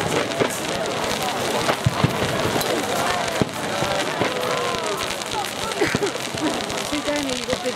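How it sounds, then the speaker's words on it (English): Ground fireworks go off at a bonfire night event in Hastings, giving a dense, continuous crackle and spatter with scattered pops, while people talk nearby. "They're ground fireworks."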